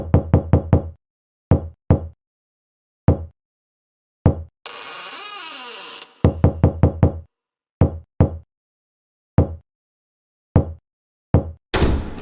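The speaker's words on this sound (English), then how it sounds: "knocking on a door, that is a door handle, or a doorknob." A door is knocked on in short clustered raps, a beat in an Incredibox Mandela Catalogue mod, repeating in a steady pattern broken midway by a burst of static-like noise.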